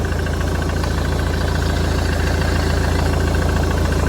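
A 2010 Ford S-Max 2.0 TDCi diesel engine idles close by, a smooth, even rumble with a faint steady knock, quiet and unchanging throughout.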